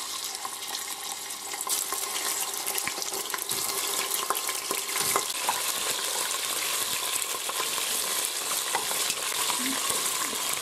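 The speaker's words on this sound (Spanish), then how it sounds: "echamos la carne para sellarla" Meat searing in hot oil for a potato, vegetable and red wine stew, a dense, loud, continuous sizzle that jumps up after about a second and stays steady, crackling close by, with no talk.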